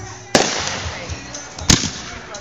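Fireworks going off outdoors: two sharp, loud bangs about a second and a half apart, each trailing into a crackling, rumbling decay.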